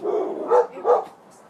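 Dogs bark outdoors, a few short separate barks at moderate distance, with quiet gaps between them.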